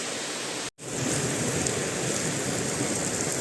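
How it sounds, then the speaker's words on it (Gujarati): Heavy rain pours down steadily in Rajkot, a dense, loud, continuous hiss with a brief cut near the start and no talking. "કેવો વરસાદ પડે"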